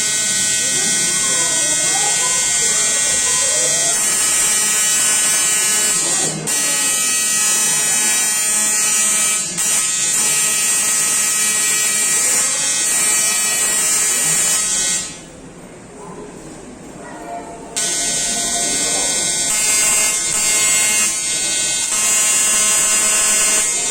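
A high-voltage coil discharging through a tube at a live demonstration, a loud continuous electric buzz lasting throughout, briefly dropping away and returning, with someone talking over it.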